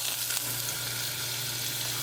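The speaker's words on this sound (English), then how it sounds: "You melt your butter." About a tablespoon of butter melting over medium heat in a pan for gravy, giving off a steady, close, continuous sizzle with no break.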